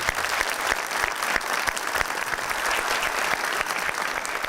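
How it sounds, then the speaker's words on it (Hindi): A studio audience applauds at a Pakistani TV comedy show, giving a dense, loud burst of clapping that holds steady throughout with no voices standing out. "इनके लिए तालियां।"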